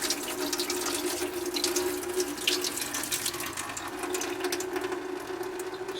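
Water slowly poured off alfalfa sprouts as they drain, a steady trickling splash with faint clicks, soft and continuous from start to finish.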